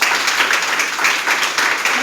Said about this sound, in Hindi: चलिए, जानना चाहेंगे तो एक बार जोरदार तालियां हो जाए साथ में।